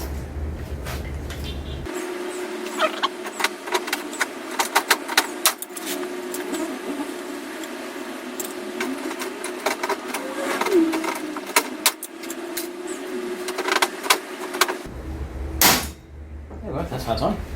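Blind rivets are set into a motor panel with a hand rivet tool, giving a series of sharp clicks and snaps at irregular intervals over a low background hum, fairly close.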